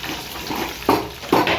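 Food frying in a pan, a steady hiss of sizzling with two louder spattering bursts near the end, close and fairly loud.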